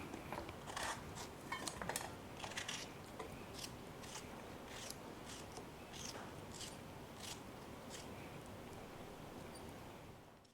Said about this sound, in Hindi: तो मैं ये 3 टमाटर काट लेती हूँ।